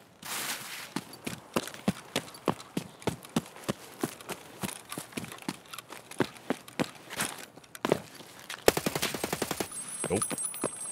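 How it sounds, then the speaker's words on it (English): Gunfire in the video game Escape from Tarkov, rapid sharp shots in bursts and single reports spread across the scene, ending with a fast automatic stream, moderately loud with no talk. "Someone actually shooting at me"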